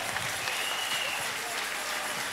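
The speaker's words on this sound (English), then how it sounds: "Put your hands together for Jesus." Church service audience clapping for Jesus, a continuous crowd applause filling the space at moderate distance, with faint voices mixed underneath.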